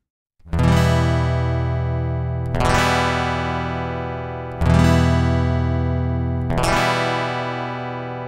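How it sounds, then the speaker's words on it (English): An acoustic guitar is strummed with a pick, four bright full chords struck roughly two seconds apart, each ringing out with a long sustain. "The acoustic guitar."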